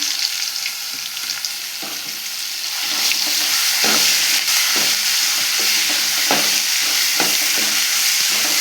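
Chutney paste of ground snake gourd seeds hits hot oil with curry leaves and urad dal in a pan, a loud, steady sizzle that swells midway and carries on with scraping stir strokes, no voices.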